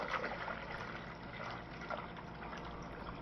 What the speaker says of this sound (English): give it about a gallon of water